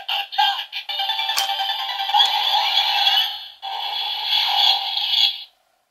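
A DX Seiza Blaster toy triggers a special attack, giving off a continuous, bright, warbling electronic sound effect for about five seconds with a brief dip partway through, close and loud, with no talking.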